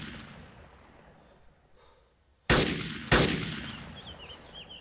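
Two sharp, loud gunshot cracks from enemy fire in a shooter video game, a second apart, each trailing into a ringing decay over a quieter rumbling background.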